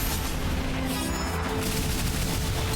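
Burst of a purple attack exploding in the game Ender Magnolia: a loud, dense, sustained crackling blast that stays at full strength and fills the whole short stretch without pause.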